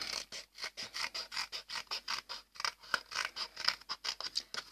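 Scissors snipping through black paper around a bat outline, a brisk, regular series of close crisp cuts, one after another with barely a gap.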